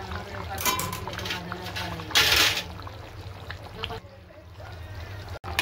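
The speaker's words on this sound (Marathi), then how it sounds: "पाणी टाकल्याच्या नंतर असं हलवून घेतो." Rice with hot water added in a pot for chicken biryani, stirred so the liquid sloshes and trickles, with soft scraping and a louder splashy burst midway, fairly close.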